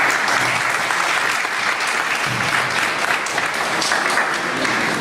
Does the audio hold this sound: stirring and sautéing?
no